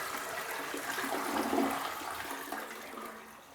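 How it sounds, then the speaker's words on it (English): A household toilet flushing, water rushing and swirling down the bowl in a steady, close wash that peaks midway and tapers off toward the end, with no talking. "Which way does the water in your toilet swirl? Does it go clockwise or counterclockwise?"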